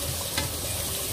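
Frozen food fries in hot oil with a steady, close, hissing sizzle and a brief louder crackle in the middle.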